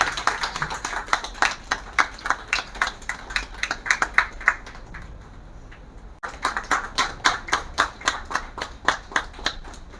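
Audience members at an International Women's Day awards ceremony clap in steady, rhythmic unison, sharp regular beats carrying on throughout, with a brief break midway before resuming strongly.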